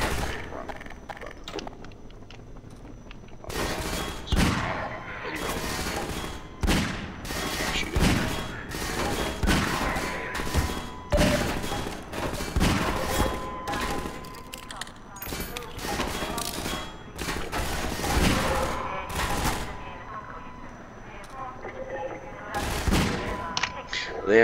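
Enemy soldiers firing on the player in the shooter Half-Life 2: repeated sharp bursts of gunfire and impacts come irregularly over a long stretch, with someone talking at times in between.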